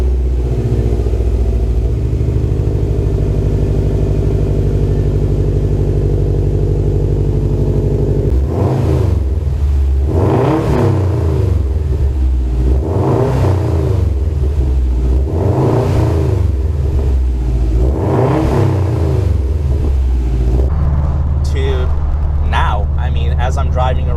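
A car fitted with a Greddy catback SP exhaust idles with a deep, steady rumble, then blips the throttle in about five loud, rhythmic revs before settling back to a low burble, all close up.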